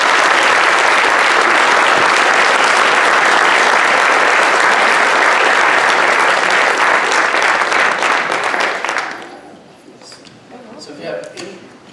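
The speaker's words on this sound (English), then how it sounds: "So let's give her a round of applause." Audience applause after a talk on the future of transportation, dense and loud for about nine seconds before it fades out, followed by faint talk.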